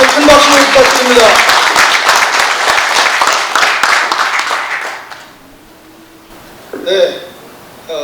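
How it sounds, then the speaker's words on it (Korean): An audience at a Korean lecture event applauds for an ambassador with loud, sustained clapping that fades out around the midpoint, followed by quiet and a brief voice. "이재준 대사님께 큰 박수를 부탁드립니다"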